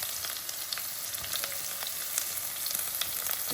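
Onion, green chili and garlic fry in a pan, with mustard seeds already in the oil, for a methi leaf thoran. A steady, close, crackling sizzle runs throughout with small pops and no voices.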